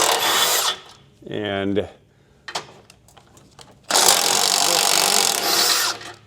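Motor mount bolts come out under a power tool: loud whirring impact-gun bursts, a rising ratcheting rattle, scattered metallic clicks and taps between, then a long sustained burst, with a brief spoken word.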